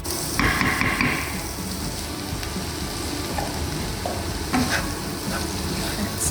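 Piri piri sauce sizzles in a pan with basmati rice, giving a close, constant hiss of frying with a few brief scrapes and knocks from stirring.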